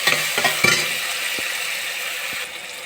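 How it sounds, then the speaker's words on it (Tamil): Onions and tomato saute in a pan with salt, a soft steady sizzle with a few light scrapes and taps of a stirring spoon. "சிறிதளவு உப்பு சேர்த்து பச்சை வாசனம் போகும் வரை வதக்கவும்"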